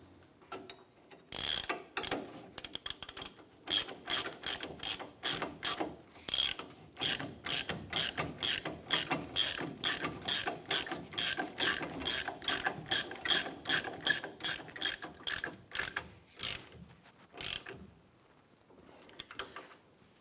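A hand ratchet tightening the nut and bolt on a rear shock absorber of a 1993–1997 Ford Ranger: a long series of rapid, close clicking bursts in a steady back-and-forth rhythm, with no voices.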